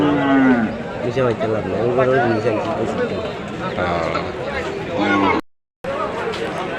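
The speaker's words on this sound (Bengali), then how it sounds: "এখানে কয়েকটি দেশাল জাতের খামার উপযোগী ষাড়গরু কয়েকটি সাইওয়াল ষাড়গরু আছে" Deshal and Sahiwal breed bulls at a cattle market in Gohorpur Madrasa Bazar, Sylhet, let out loud, drawn-out moos over a busy hubbub of people talking, and the sound drops out briefly near the end.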